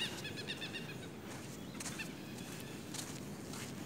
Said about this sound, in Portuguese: Muitos pássaros.